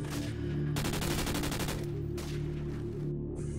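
An SMG in Call of Duty 4: Modern Warfare fires a loud, close, rapid automatic burst in the middle, over a steady background hum, with a shorter burst following.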